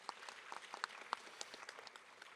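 Faint audience applause follows a presentation at a maritime forum in a hotel ballroom, heard as scattered, distant clapping that stays light and uneven.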